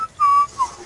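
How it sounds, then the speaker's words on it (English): A short whistled tune of two clear notes, a longer one followed by a brief one, loud against a quiet background, during a Garry's Mod Murder game session. "Who just started whistling?"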